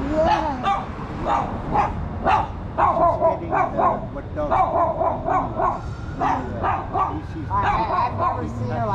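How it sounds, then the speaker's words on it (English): A dog barks and yips repeatedly in bursts on a city street in Vancouver's Downtown Eastside, loud and close, with people talking over and between the barks. "Daisy, don't bark so much."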